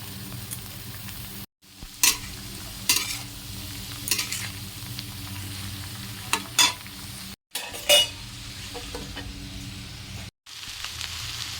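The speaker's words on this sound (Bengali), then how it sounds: "বাঁধাকপিটা যে ভাজা ভাজা হয়ে যাবে" Cabbage fries in a hot pan, giving a steady sizzle while a spoon scrapes and stirs it in repeated bursts. There are brief silent cuts between the stirring passages.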